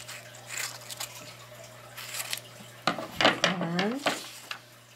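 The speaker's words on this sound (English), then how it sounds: "Next, we're going to just cut it out." Scissors cut craft paper for a homemade smartphone prop for an 18-inch doll, making a few crisp, sparse snips close by. A voice talks briefly between the cuts.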